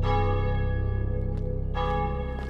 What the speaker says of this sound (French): la cloche se met à sonner